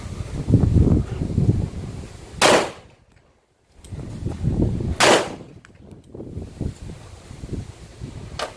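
A Colt Mark IV Series 80 .45 ACP pistol fires two sharp, loud shots a few seconds apart at an outdoor shooting range, each followed by a brief echo, over wind noise and low background rumble.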